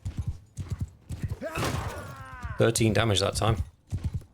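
Horse hooves clop rhythmically in the combat game Mount & Blade II: Bannerlord, with a horse whinny and thuds, while someone talks over the action.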